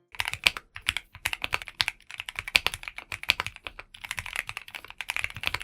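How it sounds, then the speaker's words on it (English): Rapid typing on a 75% mechanical keyboard with Gateron Jupiter switches and screw-in stabilizers, close and clear, a dense stream of deep, controlled keystroke clacks with short pauses. "it delivers a smooth typing experience with a deep, controlled sound."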